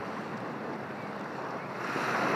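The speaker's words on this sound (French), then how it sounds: "Il y avait trop de vent." Strong outdoor wind buffets a microphone, giving a loud, continuous roar that swells slightly toward the end, with no voices.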